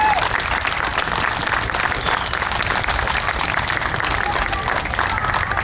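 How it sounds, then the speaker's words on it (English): Outdoor bleacher crowd at a state police special operations exhibition gives a steady, dense round of applause, loud and continuous with a noisy crowd wash throughout. "we think it's those guys that deserve a real round of applause this afternoon"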